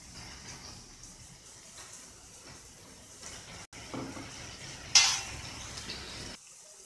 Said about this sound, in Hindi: अच्छे से इसे मिक्स कर लेते हैं।